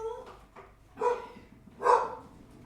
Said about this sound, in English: We are being invaded by puppies.